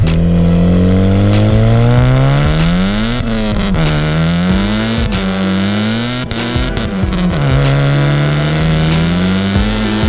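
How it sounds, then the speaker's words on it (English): A turbocharged Honda Civic with an R18 engine accelerates hard, its loud engine note rising and dipping through repeated revs and gear changes, continuous and close with no talking. "you can actually punch the throttle at lower speeds and higher gear, and it just moves effortlessly"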